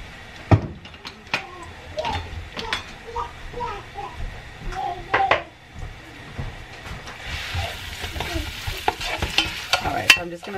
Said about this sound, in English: I'm going to saute some onion, probably about a cup of onion.